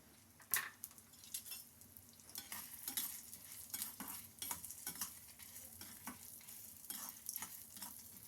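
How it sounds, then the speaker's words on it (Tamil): Urad dal, chana dal and dried red chilies roast in hot oil in a pan, with faint sizzling and repeated scraping and stirring clinks of a spoon against the metal, fairly quiet and close. "உளுத்தம்பருப்பு, கடலைப்பருப்பு, மிளகா வத்தல், கொஞ்சம் புளி, கொஞ்சம் தனியா போட்டு நல்லா வறுத்துக்கலாம்"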